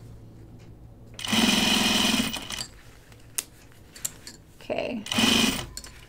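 Sewing machine stitching binding onto a notions case. Two loud, close bursts of fast stitching are separated by a quieter gap, and a voice speaks briefly between them.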